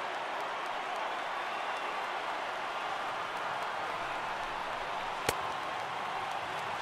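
A stadium crowd of over 39,000 on their feet at Coors Field during a Yankees–Rockies game in MLB The Show 18, a continuous, even roar of cheering with one sharp click partway through.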